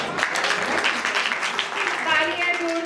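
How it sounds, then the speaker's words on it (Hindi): An audience at a Daslakshan festival cultural programme in a Digambar Jain temple in Rohini, Delhi, applauds continuously in a dense wash of clapping, with a voice speaking over it near the end. "तालियां, जोरदार तालियां।"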